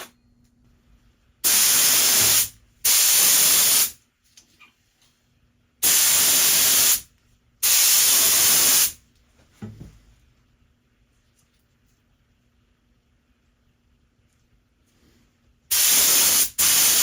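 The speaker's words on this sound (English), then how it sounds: "After all that's done, then we start spraying." A spray gun applying Cerakote coating hisses in loud, sharp bursts of about a second each, two pairs spaced apart with quiet gaps and a faint hum between.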